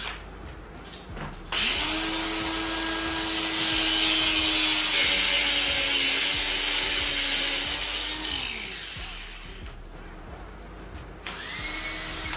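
Cutting through a hose in the engine bay of an SN95 Ford Mustang, a steady rasping, sawing scrape that runs close and loud for several seconds before tapering off, with faint background noise around it.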